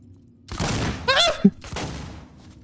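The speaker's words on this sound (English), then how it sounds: "It's your fucking fault that I'm getting shot." Gunfire in the video game Alien Isolation bursts out in a couple of loud, dense volleys with a sharp thud between them, separated by brief quiet.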